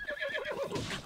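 A horse in Zelda: Breath of the Wild gives a single short, wavering whinny, clear and close, lasting about a second.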